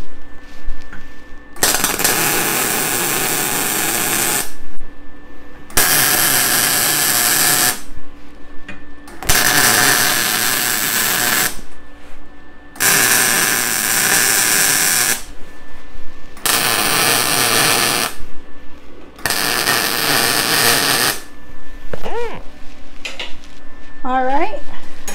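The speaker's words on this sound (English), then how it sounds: "one moose head getting welded up" Welding a scrap horseshoe moose head sculpture: loud, harsh crackling bursts of several seconds each, six or seven in a row with short quiet gaps between them, close up.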